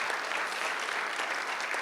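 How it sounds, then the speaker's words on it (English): Brief applause from an audience at a Hall of Fame awards ceremony, an even patter of many hands clapping at a distance, fairly soft and steady. "We want to give a big wave and a big appreciation clap to Vicki Gladstone for hiring"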